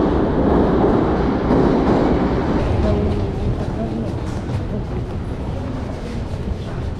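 A Novosibirsk metro train runs steadily and loudly, its continuous rumble and rattling wheels filling the carriage throughout, with no clear pauses.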